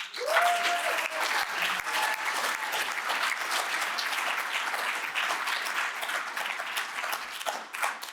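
An audience at the Oxford House World Convention breaks into applause, steady crowded clapping that holds at an even level for about eight seconds.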